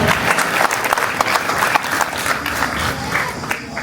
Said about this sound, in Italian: Anche per lui l'applauso e il mio grazie.